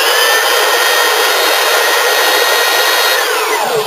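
Electric belt sander, a 503 model, running upside down while its belt is tracked: a steady, loud high-pitched whine and hiss with no pauses, easing slightly near the end.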